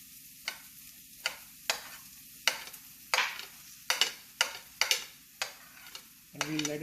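Garlic and onion frying in a hot skillet, with a faint sizzle under about a dozen sharp spatula scrapes and taps at an uneven pace, close by, then a louder burst of sizzling at the end, no talking.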